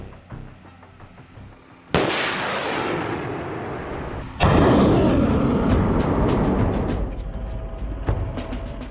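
Two loud rocket launches from a multiple launch rocket system (MLRS) roar out in succession, each a sudden blast trailing into a long rushing whoosh, with faint crackling and ticking in between.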